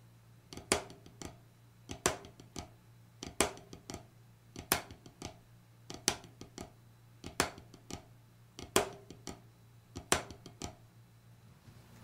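Flamacue drum rudiment played back and forth between right- and left-hand lead, a steady pattern of sharp accented strokes and flam grace notes repeating over about twelve seconds, moderately quiet with a faint low hum beneath.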